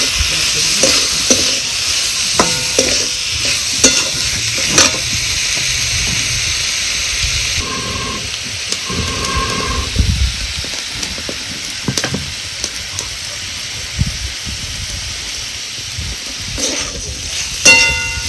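Kharda bombil, Bombay duck coated in ground masala, is stir-fried in a pan, giving a loud steady sizzle with repeated scraping and knocking from the spatula and brief bursts of hiss, over a long stretch.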